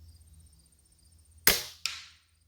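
A Beeman .22 spring air rifle fires a single sharp crack outdoors, followed a fraction of a second later by a fainter snap of the pellet striking the target, with near silence around.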